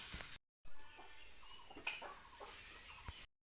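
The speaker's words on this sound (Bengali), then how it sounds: "800 টাকার মুরগি এটা।" A large kok chicken, a Bengali village fowl weighing over two kilograms, clucks in several short, close bursts spread over a few seconds, with brief gaps of silence between them.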